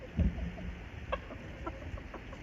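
Homestead chickens cluck in a few soft, scattered calls, with one louder squawk near the start. Quiet outdoor ambience fills the gaps between calls.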